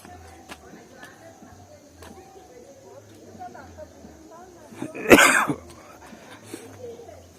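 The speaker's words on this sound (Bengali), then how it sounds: "ঠান্ডায় কাশি হয়ে যাচ্ছে।" A single cough, from someone with a cold on a foggy winter morning, bursts out loudly around the middle, with a smaller cough or throat noise after it over faint outdoor background.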